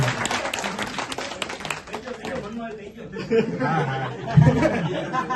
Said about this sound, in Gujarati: એકવાર જોરદાર તાળીઓ તો વધાવો.